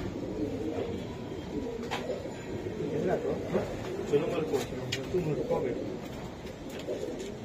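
A racing pigeon with ten races behind it coos softly and repeatedly close by, its low calls blending into a busy loft backdrop while someone talks throughout.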